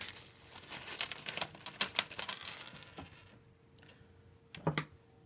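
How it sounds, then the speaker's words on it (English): Plastic crinkles and rustles in quick, uneven bursts, fairly close, then quiets before a final couple of crackles. "I saved them all in this plastic bag."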